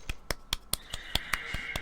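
Sparse, evenly spaced claps in a slow golf-clap rhythm, about nine sharp isolated smacks at moderate volume with a faint background tone between them.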